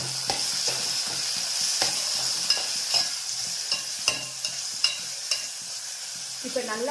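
Tomatoes fry with a bright, steady sizzle in a pan while a spoon stirs them, knocking and scraping against the metal in quick repeated strokes, close and without any voices.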